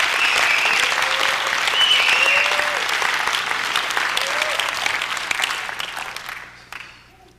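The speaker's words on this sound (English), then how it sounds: "Clap your hands right there." An audience at a leadership talk breaks into steady applause that carries on for several seconds with some voices mixed in, then fades out toward the end.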